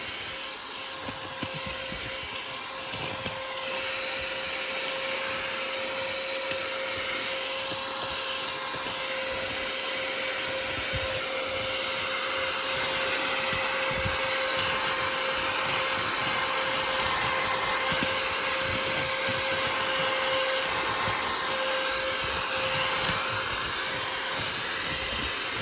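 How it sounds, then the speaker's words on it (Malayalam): Handheld budget car vacuum cleaner with a brush adapter runs continuously on a stone surface, a steady close whine and airy suction roar with occasional scraping bumps, no talking. "അഡാപ്റ്റർ മാറ്റിയപ്പം കുറച്ചും കൂടെ ഒരു സക്ഷൻ ഇമ്പ്രൂവ് ആയിട്ടുണ്ട്"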